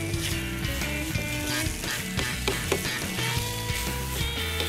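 Jasmine rice for a Creole jambalaya frying and being stirred in a pan, a continuous sizzle with repeated scraping and stirring strokes, close and steady, with music playing underneath.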